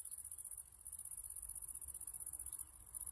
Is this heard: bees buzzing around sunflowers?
yes